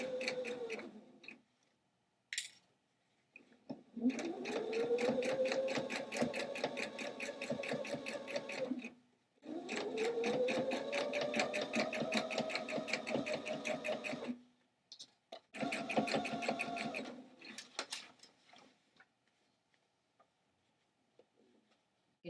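A sewing machine stitches a shirt and sweater together in quick rhythmic bursts, each run of rapid ticking lasting several seconds before pausing, heard up close and fairly quiet.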